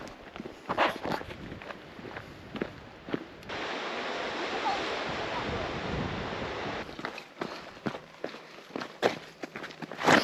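Footsteps crunch steadily along a Pembrokeshire coast path toward Freshwater East and Scrinkle Bay, close and rhythmic. In the middle a rush of wind and surf briefly covers them.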